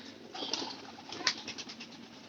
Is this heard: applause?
no